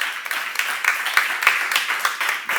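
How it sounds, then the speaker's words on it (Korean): Congregation in a Korean church seminar clapping together, a steady crowd applause at moderate distance with irregular individual claps standing out, no talking over it. "박수를 하나 드리시기 바랍니다"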